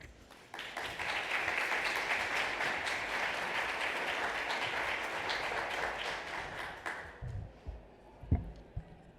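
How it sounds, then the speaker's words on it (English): A crowd at a Tourism Richmond event gives a warm round of applause for Denise as she comes up to speak. The sustained clapping builds quickly and holds for about seven seconds, then fades out, followed by a few isolated knocks and handling noises. "So please give a warm round of applause to Denise."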